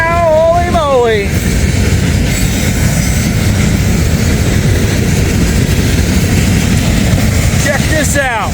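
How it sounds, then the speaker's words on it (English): Canadian National freight locomotives passing during a train meet, a loud, steady rumble close by with horn blasts at the start and end and a voice talking over it. "3 Canadian National units coming on through."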